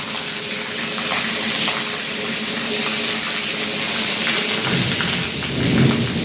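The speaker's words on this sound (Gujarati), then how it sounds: "વીજળી આમ તો હા ધોધમાર વરસાદ" A loud, dense downpour roars without pause, and a deep rumble of thunder swells near the end.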